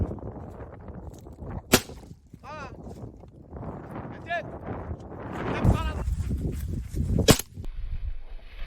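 Two sharp shotgun blasts during an outdoor hunt, loud and separated by several seconds, with wind noise, people talking and a bird calling faintly in between.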